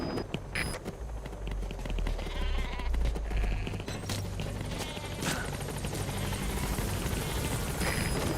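Support helicopter arriving at a landing zone in Metal Gear Solid V: The Phantom Pain, rotor roar loud and close with a low thrumming throughout, mixed with scattered game effects and bleating livestock.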